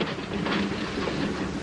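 Freight train cars roll steadily past with a dense rumbling clatter of wheels on track, loud and continuous.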